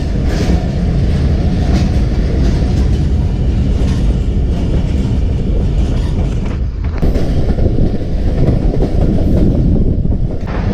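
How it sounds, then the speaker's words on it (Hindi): A train rolls past a railway station crossing in Pakistan, a loud, steady roar of wheels and carriages with faint clickety-clack, close and continuous throughout with a brief dip midway, no voices. "यहाँ ये हमें ट्रेन इसको क्रॉस कर रहे हैं।"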